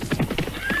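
A tired horse on a journey, hooves clip-clopping in quick uneven beats with breathy panting, close and brief.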